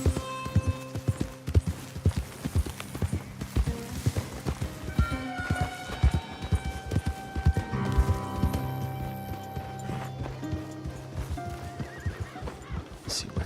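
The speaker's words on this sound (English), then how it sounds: "Let's see, where can I hitch this horse up at?" A horse in the video game Red Dead Redemption 2 clip-clops along with rhythmic hoofbeats, snorts and whinnies, while a harmonica plays softly beneath.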